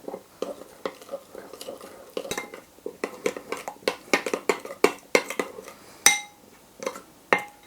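A spoon stirs salt, ground black pepper and five-spice powder together in a bowl, giving a string of close, crisp clinks and scrapes that quicken and grow louder toward the end.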